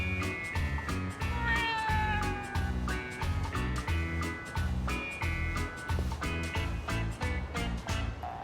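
A stray cat in the video game Yakuza: Like a Dragon meows repeatedly, with clear drawn-out calls that rise and fall over a steady, rhythmic musical backing.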